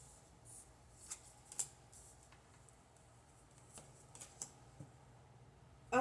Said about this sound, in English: you saw me shuffling those cards